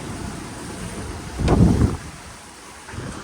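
Steady wind blows over a sailboat making about 10 knots at sea at sunset, a broad continuous rush with one louder gust swelling in the middle.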